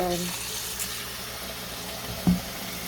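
Warm tap water runs into a sink for washing parboiled rice, a steady soft hiss of flow with a brief clunk partway through, close and moderate in level.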